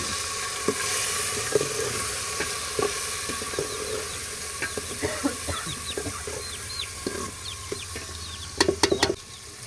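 Onions and tomatoes frying in a pan for a vegetable curry in a tribal village kitchen near Araku, a steady low sizzle with scattered stirring scrapes and clicks, while chickens cluck faintly in the background.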